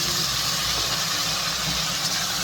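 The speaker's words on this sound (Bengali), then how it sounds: "এগুলো দিয়ে এখন এটা ভেজে নেব" Spices with a little water and powdered masala sizzle and hiss in a pan while frying for a Bengali eggplant bharta, a steady close-up crackling sizzle with no talking.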